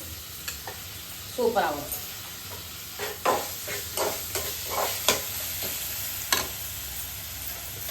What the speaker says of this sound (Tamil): தக்காளியும் வதங்கிறது